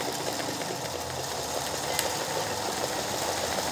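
A home sewing machine runs a continuous straight stitch while embroidering leaf shapes, giving a steady mechanical whir and rapid needle chatter that holds evenly throughout at close range, with no voices.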